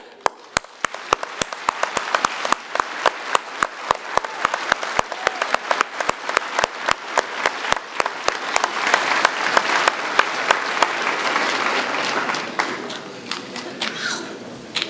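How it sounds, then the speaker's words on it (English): A standing audience at a nursing pinning ceremony claps in a steady round of applause, sharp distinct claps at first that swell into a dense, fuller ovation and hold through to the end. "Please stand for a round of applause."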